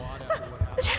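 A single quick sneeze bursts out near the end, preceded by brief voiced sounds, close and fairly loud, from a character in the Dishonored video game.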